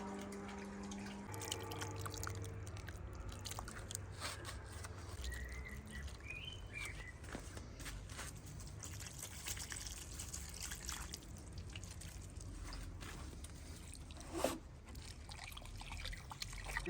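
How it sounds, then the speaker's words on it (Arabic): Water trickling and dripping while seedlings are watered in a garden in Germany. A soft, steady patter runs throughout, with faint birds chirping in the background. "قررت خليت هنا اخلي مي هنا واعطيه المي اسقيه"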